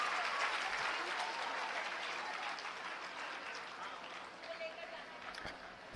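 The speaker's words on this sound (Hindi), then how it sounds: "एक बार जोरदार ताली इन बच्चों के लिए बजाएं हम लोग" Loud, sustained applause from an audience at a Delhi government school inauguration, cheering the children of Acharya Tulsi Sarvodaya Bal Vidyalaya, Chhatarpur. The clapping is dense and steady, fading slightly toward the end.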